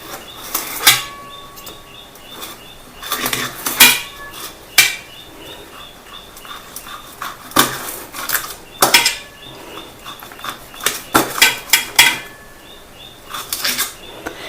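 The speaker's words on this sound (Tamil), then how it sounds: "எந்த அளவுக்கு குட்டி பீஸாக கட் பண்ண முடியுமோ கட் பண்ணிக்கோங்க." A knife cuts aloe vera into small pieces on a hard surface, producing sharp irregular tapping chops, near and moderately loud, with no talk.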